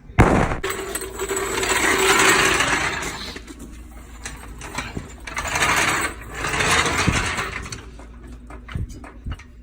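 A car jack is worked to lift the vehicle and remove a wheel, giving repeated ratcheting, clicking mechanical strokes in several bursts, close and fairly loud.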